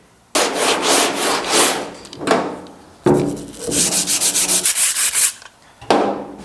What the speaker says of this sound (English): So just clogging the paper and not really sanding as well as I'd like.